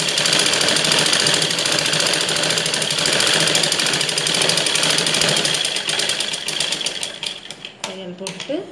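A sewing machine stitches a ladies' blouse in a steady, fast mechanical rattle, loud and close. It slows and stutters near the end as the stitching stops.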